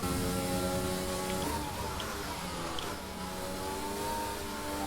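A Formula 1 car in the F1 2020 video game at Monaco spins its wheels with a steady, high engine whine that shifts pitch partway through as it revs hard.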